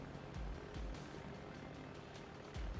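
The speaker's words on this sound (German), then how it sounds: "Ah, Flugzeug ist da auf 7 Kilometer." A propeller aircraft droning in a World of Warships naval battle, a low steady engine hum with a few soft thumps and faint background game noise.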